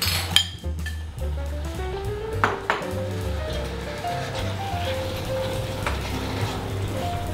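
Marinated chicken goes into a pot of frying spice paste with lemongrass. Sizzling runs under metallic clinks and scraping of a utensil against the pot, heard up close with no speech.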